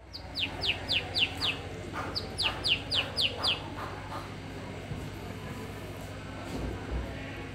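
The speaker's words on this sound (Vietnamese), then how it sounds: "Đây là cách chơi với chim." A bird chirps in two quick runs of five sharp, high tweets, close and clear over faint background noise in Na Hang, Tuyen Quang, Vietnam, then quiets down.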